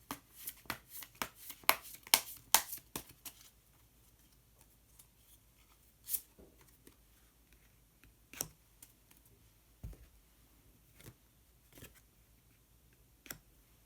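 Tarot cards get shuffled and drawn by hand, with a brisk burst of crisp riffling snaps at the start, then sparse, quiet clicks and slides of single cards being pulled and laid down.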